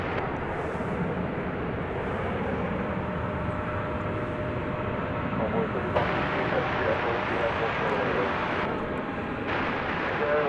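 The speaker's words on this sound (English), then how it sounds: "As you see an Airbus A321 crossing over from the" An Airbus A321 airliner crosses over from the American Airlines hangar while taxiing at DFW Airport, producing a steady, broad engine roar that stays constant throughout, with a voice talking over it.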